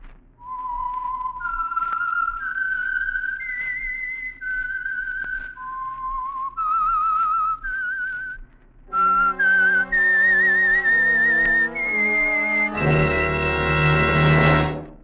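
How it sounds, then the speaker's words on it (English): A whistled signature tune for the Signal Oil radio program, The Whistler: a lone, clear melody of sustained notes, later joined by a fuller orchestral accompaniment, loud and close with no talk. "the signal to listen for is this whistle that identifies the Signal Oil program"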